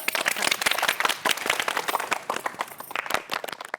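A small group claps in a comic television sitcom scene, with a quick run of irregular, crisp hand claps that are close and distinct, rising and dipping in intensity without any talk over them.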